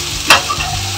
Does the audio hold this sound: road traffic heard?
no